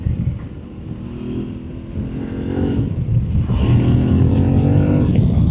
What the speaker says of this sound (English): Bit of character really from the parallel twin engine.